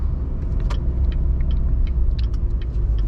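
A C7 Corvette Grand Sport engine idles with a steady low rumble, blipping briefly under throttle inside the car; close and fairly loud, with faint clicks and rattles above it and no talking.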